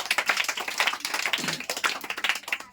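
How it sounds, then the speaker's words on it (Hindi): A small group claps for a child who answered a Bihar police exam question correctly during a quiz, uneven close handclaps rising and falling in short bursts. "जोरदार तालियां बच्चा के लिए"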